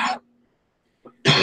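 A single close cough at a punk music festival, a short harsh burst, followed after a quiet gap by a smaller throat sound and a second loud burst.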